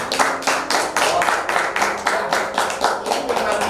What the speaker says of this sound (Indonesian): Wah, luar biasa, tepuk tangan.